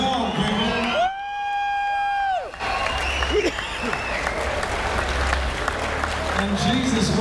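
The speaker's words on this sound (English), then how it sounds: "Come on, give him a round of applause." Applause and cheers from a crowd at a featherweight boxing title event, a loud sustained wash that rises after a brief held tone, with a voice talking over it.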